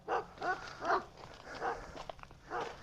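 Several deep German Shepherd barks in a loose rhythm, somewhat distant, with a soft whimpering tone between them over faint outdoor background noise in Quartzsite, Arizona.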